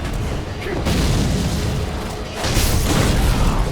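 Loud booming explosions of thrown bombs in Sekiro, with a blast near the start and another heavy burst around the middle, over constant rumbling background action.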